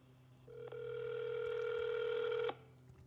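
A telephone line plays a steady tone for about two seconds before cutting off, the sound of a call being placed to a business, clear and close with no talking.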